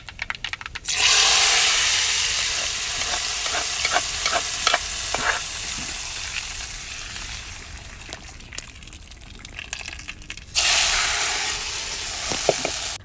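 Hot tempering of dried red chillies, curry leaves and lentils poured into a brinjal and drumstick curry, bursting into a loud, hissing sizzle. The sizzle fades under stirring, then flares up loudly again near the end, with no talk.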